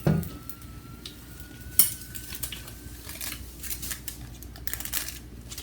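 Octopus empanadas frying in hot oil, giving a soft steady sizzle under sharp clinks and scrapes of metal utensils against a pan.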